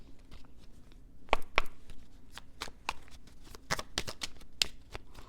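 Thoth tarot cards being shuffled by hand, a series of crisp riffling snaps and slaps at an uneven rhythm, close and clear with no voice over them.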